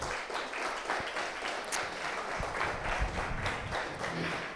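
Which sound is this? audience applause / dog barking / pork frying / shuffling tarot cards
audience applause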